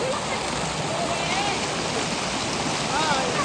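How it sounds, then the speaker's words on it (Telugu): Fast-flowing stream water rushes in a steady, dense wash near a fishing spot in Canada, loud and continuous, with faint voices beneath. "వాటర్ ఫ్లో ఎక్కువ ఉంది"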